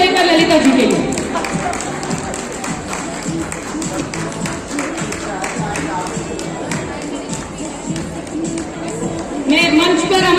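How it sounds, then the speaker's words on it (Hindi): Audience at a women's honour ceremony claps and cheers as a guest is invited on stage, a dense burst of applause that eases off and then swells again, with a voice speaking over it. "जोरदार तालियां हो जाएगा ललिता जी के लिए"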